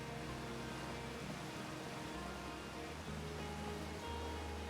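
A waterfall in the video game Outer Wilds rushes as a dense, constant roar of falling water, loud and unbroken throughout with no pauses or voices.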